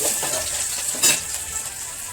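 Vegetables fry in a pan with onions, cumin, ginger, garlic and turmeric, giving a steady close hiss of sizzling oil with a brief louder crackle midway and no talk.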